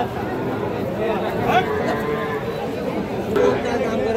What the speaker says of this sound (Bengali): এই পাশে একটা ষাঁড় বাছুর দেখতেছি।